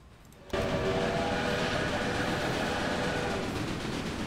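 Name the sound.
10-wheeler train in video game Railway Empire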